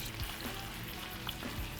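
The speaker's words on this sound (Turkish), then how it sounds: "Burada kızartma işlemi yapıyoruz." Steady, close sizzling and crackling of meat frying in hot oil, a continuous dense hiss with faint pops throughout.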